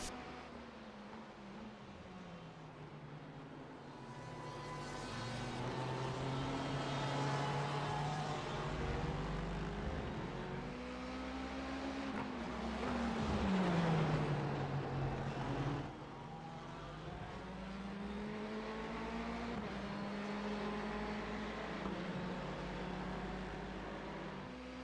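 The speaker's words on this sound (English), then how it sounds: "So now I'm about to get lapped by one of the Corvettes, so I'm not really racing him for position" Racing game engine drone as a Corvette race car laps a slower car of a different class, a steady roar whose pitch rises and falls through gear changes over about twenty-five seconds, fairly quiet throughout.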